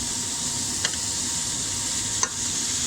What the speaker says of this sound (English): we are gonna need a bit more fat in here to help brown up and saute your vegetables